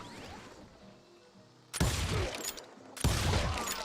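Two loud, sharp gunshots ring out in a cowboy shooter video game, about a second apart and each with a booming tail, after a quieter stretch of game ambience.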